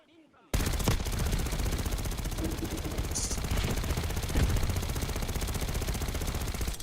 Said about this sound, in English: Let's put some bullets down lane